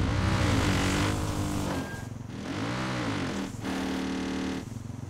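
Car engine in Far Cry 5 revving and driving, loud and continuous with shifting pitch as it accelerates and eases off, tires and motor filling the whole stretch with no talk over it.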